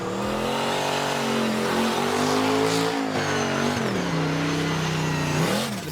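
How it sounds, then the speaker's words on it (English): A loud, roaring turbocharged V8 drift car engine revving hard and holding high, its pitch rising and falling as the car drifts past at the Australian Drifting Grand Prix, close and continuous. "Sound of a turbocharged V8."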